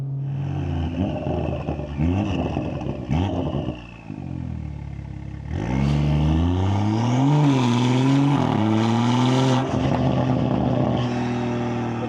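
A loud, 600 hp Stage 3 tuned BMW M140i F20 engine idles roughly, then revs up and holds a strained, rising drone with pitch wavering as it accelerates, close and continuous.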